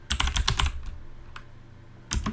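Quick bursts of keystrokes on a computer keyboard while entering a Linux mount command, then a short pause before a final few key presses, all close and clear.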